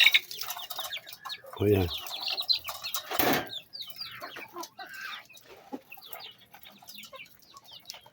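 Rhode Island Red chickens cluck and chatter nearby, a brief burst of wing flapping in the middle, while someone speaks briefly over them.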